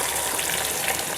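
Chopped onions frying in a pan with curry leaves and green chillies, a brief, loud, even sizzling hiss close by.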